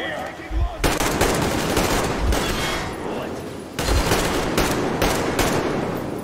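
Rapid bursts of enemy machine-gun fire in the video game Metro Exodus, loud and sustained, with a few heavier impacts punctuating the volleys.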